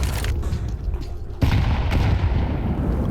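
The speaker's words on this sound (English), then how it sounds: "Nice little harass nades there." Grenades explode in a Counter-Strike pro match, thrown as harassing nades: dense, loud booming blasts and rumble, with a sharp burst about midway over continuous low roar.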